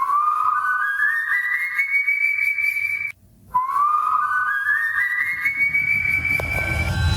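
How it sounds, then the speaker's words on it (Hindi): Eerie rising whistles tied to the El Silbón ghost legend: two long, thin upward-gliding whistles, each climbing in pitch then holding, separated by a brief silence, loud and close with no voices. "कुछ इस प्रकार की सीटियों की आवाजें सुनाई"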